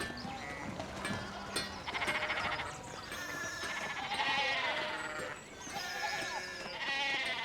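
Sheep bleating repeatedly in the video game Pentiment, several overlapping calls in a dense, busy flock over a constant background bed, fairly close and continuous.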